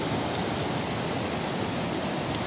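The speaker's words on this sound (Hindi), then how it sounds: "इतना ऊंचा झरना है, इतना ऊंचा देखो ऊपर से आ रहा है, खतरनाक।" Very high mountain waterfall on a fast-flowing hillside stream, its water crashing down in a loud, unbroken roar with steady hiss, close by and alone with no talking.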